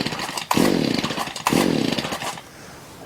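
The small two-stroke engine of a Shindaiwa edger, which fails to rev properly, fires up in two short pull-start bursts that each sputter and die away, close and loud.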